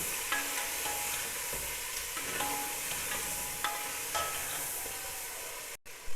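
Meat fries in a pan with ginger garlic paste for a sohanjna gosht dish, a steady close sizzle and hiss with a few stirring scrapes and clicks, ending with a brief knock.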